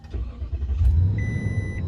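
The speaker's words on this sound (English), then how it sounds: "So once I turn the car on, you'll see that." Engine of a 2020 Toyota Tundra Platinum pickup starting, a low rumbling crank that catches and settles into a steady idle, with a faint electronic chime ringing over it.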